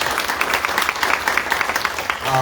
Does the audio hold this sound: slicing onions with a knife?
no